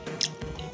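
Someone chews a mouthful of taro during a mukbang meal, with a brief wet bite and soft, squishy chewing close to the mic and no talking.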